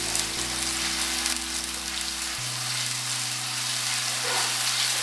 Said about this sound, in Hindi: अदरक लहसुन के पेस्ट को हम थोड़ा सा भून लेंगे